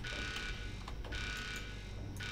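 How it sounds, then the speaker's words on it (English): A repeating electronic alarm sounds inside the Star Crawlers video game, a steady tonal whine broken by short bright bursts at a moderate, even level with no talk over it. "I'm worried about that alarm."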